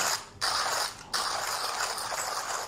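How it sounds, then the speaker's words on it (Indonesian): A manual coffee grinder crunches beans up close in a steady, gritty grinding with a couple of short pauses, no voices. "gilingannya cukup keras guys mungkin gara-gara grasesnya cukup halus"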